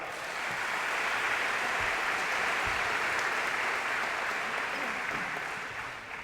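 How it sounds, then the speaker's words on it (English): Audience at a high school scholarship signing event applauds the athletes with steady, even clapping that holds for several seconds before easing slightly at the close. "So let's give them a round of applause."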